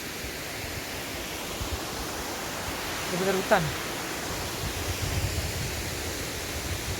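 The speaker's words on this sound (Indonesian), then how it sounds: "Nah, ini air terjunnya kawan-kawan." The Curug Nglimut waterfall pours in a steady, hissing rush in the forest, a continuous broadband roar heard from nearby, with someone speaking briefly over it.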